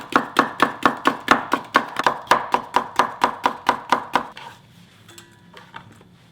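A knife chops food ingredients for a Korean nine-delicacy platter in about twenty quick, evenly spaced, crisp strokes on a board, close and clear. The chopping stops after about four seconds, leaving faint clatter and quiet.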